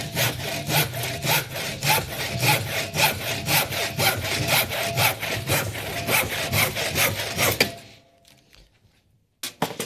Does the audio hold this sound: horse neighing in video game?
no